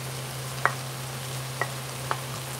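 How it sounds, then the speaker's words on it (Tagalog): Tomatoes sautéing in a pan for a banana heart and mung bean dish make a soft, steady sizzle under a low hum, with a few sharp clicks of a utensil against the pan. "Yung kamatis pala. So, igisa muna natin."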